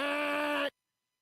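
A baby goat gives one loud, drawn-out, nasal bleat lasting under a second before it cuts off abruptly into silence.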